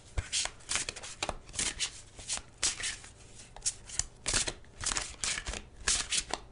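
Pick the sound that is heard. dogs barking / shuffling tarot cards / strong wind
shuffling tarot cards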